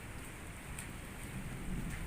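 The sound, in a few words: rain falling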